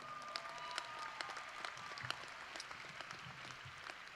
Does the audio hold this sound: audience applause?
yes